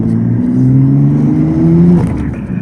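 A car engine revving hard, a loud sustained drone rising steadily in pitch, then dropping sharply as it shifts and climbs again, close by with no talk.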